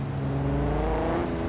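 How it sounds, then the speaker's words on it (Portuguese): Nissan GT-R engine in BeamNG.drive, a steady, loud droning hum with a rising pitch as the car accelerates, heard alone without any talk. "Esse barulho bonito do GTR, hein?"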